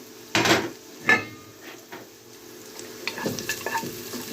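Garlic and peppers frying in oil in a home kitchen pot, with a few sharp clatters of a utensil stirring against the pan over a low steady sizzle.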